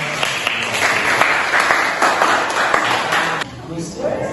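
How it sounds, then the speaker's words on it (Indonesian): A classroom audience gives dense, loud applause for a presenting group, the clapping continuous for about three and a half seconds before dropping away as voices come in. "Kita berikan tepuk tangan untuk kelompok"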